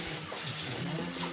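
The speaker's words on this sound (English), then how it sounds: "Clean the berries under running water." Tap water running steadily over strawberries being washed in a kitchen sink, a continuous close splashing hiss with no other sounds.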